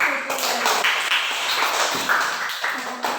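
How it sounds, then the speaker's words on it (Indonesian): A classroom of students claps for a presenting group, producing a dense, steady patter of hand claps that sits close and fairly loud, with a few brighter individual claps standing out. "tepuk tangan untuk kelompok 1."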